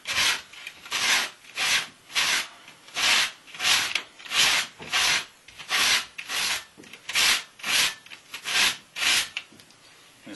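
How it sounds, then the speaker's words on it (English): Hand sanding along the outer rim edge of a homemade metal alcohol stove, steady rhythmic back-and-forth strokes, about fifteen passes, close and clear with no talking. "I'm just going to sand this outer edge and get rid of any rough edge that might be there."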